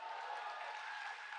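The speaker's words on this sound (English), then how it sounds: "Give the Lord a great big hand clap." A church congregation claps hands in a brief, faint, steady wash of applause heard from a distance.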